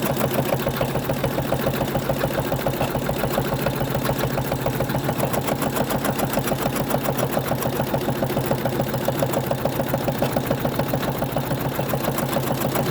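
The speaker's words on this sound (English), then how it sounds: "Now it's going to do the next stitch." An embroidery machine stitches an in-the-hoop 3D star ornament with a steady, fast rhythmic needle chatter, even and continuous at moderate level throughout.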